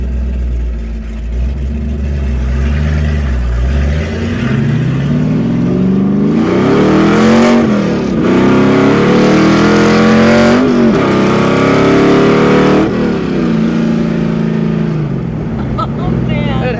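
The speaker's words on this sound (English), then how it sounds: "So right now you can hear the very loud exhaust sound." A 1970 AMC AMX SS race car's loud engine idles with a deep rumble, then revs hard several times in surging bursts, roaring exhaust up close before settling back down.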